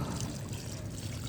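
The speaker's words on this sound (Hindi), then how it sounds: "तो ये बाल्टी से पानी में धीरे धीरे इस तरह से सारे में लगाई देती हूँ" Water pours slowly from a bucket onto potted mint, giving a steady, close trickle and splash that lasts the whole moment without a break.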